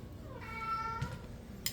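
In a home kitchen where soup is being made, a cat waiting nearby lets out a single soft, drawn-out meow that rises and falls against quiet background.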